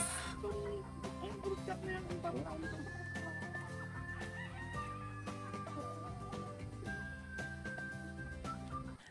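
Chickens and young stag roosters in a cording area on a breeder's farm cluck and let out several drawn-out crows, one after another. A voice speaks faintly under the steady background noise.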